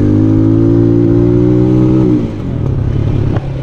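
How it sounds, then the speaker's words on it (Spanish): A Vento Storm 250 motorcycle engine is held at high revs in a loud, steady buzzing drone, then drops back abruptly to a rougher, uneven idle, with no talking. "le voy a acelerar y escuchen las revoluciones de la motocicleta"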